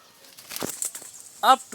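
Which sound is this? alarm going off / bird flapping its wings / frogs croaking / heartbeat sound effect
bird flapping its wings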